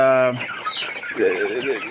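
Poultry birds cluck and chatter at close range while feeding, a short busy burst of overlapping clucks.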